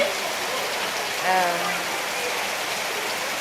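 Rain falls steadily on a rural farm, a broad even wash of patter with a faint tonal chirp partway through.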